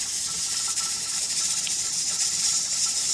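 Green beans boiling hard in a canning pot, a steady close broadband hiss and bubbling roar that holds at an even level throughout with no voices.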